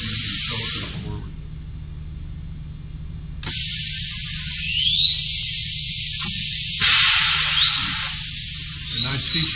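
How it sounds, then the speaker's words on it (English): A pneumatic hiss and release of air accompanies the bar feed shuttle of an HE&M saw moving forward, with loud bursts of spraying air separated by quieter stretches. "If we want the shuttle to come forward, push the button and the shuttle comes forward."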